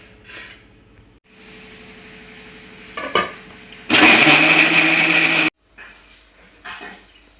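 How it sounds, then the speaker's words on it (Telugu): A kitchen mixer grinder blends fried onions into a gravy paste, roaring loudly for a short burst of about a second and a half, framed by jar clatter and quieter handling noises before and after. "ఇప్పుడు మనం దీన్ని మిక్స్ చేసుకుందాం మిక్సీ జార్లో వేసేద్దాం"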